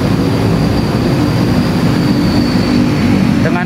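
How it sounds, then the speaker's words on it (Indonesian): A light rail train pulling into Cikoko LRT station, a steady loud rumble and rolling rail noise with a faint high whine running throughout, ending in a brief rising squeal. "Nah, masuk tuh LRT."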